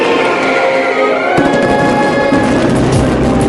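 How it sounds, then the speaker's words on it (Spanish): Fireworks burst over the beach at Altea, Spain, in a dense, loud barrage of crackling and booming explosions that carries on steadily, with a sharp new volley landing partway through. "Altea saluda el verano con un recital de fuegos artificiales"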